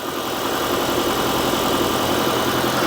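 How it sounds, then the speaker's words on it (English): Kia Optima Hybrid engine held running in engine test mode to charge its hybrid battery, a steady close idle drone with a constant vibrating hum and no talking. "what that'll do is that'll keep the engine running"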